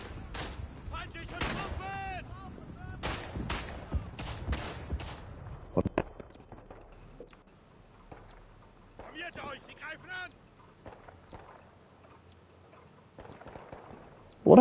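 Bursts of machine gun fire in the WW1 trench shooter Verdun, rapid crackling volleys early on that thin into scattered distant shots, with a player talking over the action.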